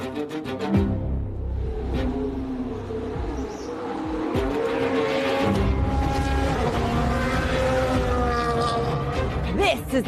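A Haas Formula 1 race car drives at Silverstone circuit, its high-pitched engine whining and shifting pitch as it runs, with a rising, sustained roar through the second half.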